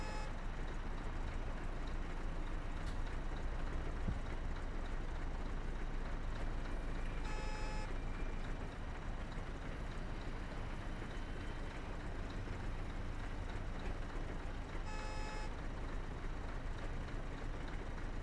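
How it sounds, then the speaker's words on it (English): Truck reversing alarm in Euro Truck Simulator: two short bursts of faint beeping, widely spaced, over a constant low engine drone with no talking. "I apologise for the beeping"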